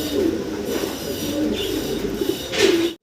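Fancy pigeons coo softly at close range, a low murmuring warble running through a few seconds under steady background noise.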